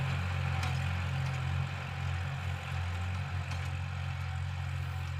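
Kubota L3608 or L4018 tractor engine running in a wet rice field during first-round ploughing, a steady low diesel drone with a constant hum, heard at moderate distance without talk.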